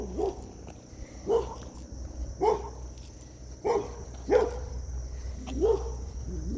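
A dog barks in a steady rhythm, about six single barks spaced roughly a second apart, moderately close, with a faint constant insect-like hum behind.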